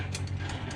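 A hand ratchet clicks briefly while removing a castle nut from a Mazda Miata ball joint, a few quick close clicks over a low background hum.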